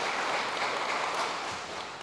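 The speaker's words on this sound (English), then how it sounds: "So let's give him a round of applause for that." Audience at a graduation ceremony applauding a graduate, a sustained, even wash of clapping from a crowd in a hall, fairly loud throughout and easing slightly toward the end.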